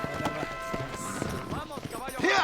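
In the Red Dead Redemption video game, a horse's hooves clip-clop in a quick rhythm beneath a voice and background game sounds.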